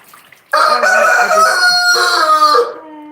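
A rooster crows loudly and close by in one long drawn-out call, with brief quieter clucking before it. No one speaks.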